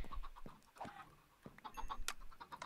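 Chickens in Minecraft give short, repeated clucks and squawks. The sounds are faint but distinct, spaced irregularly across the moment, with no talk.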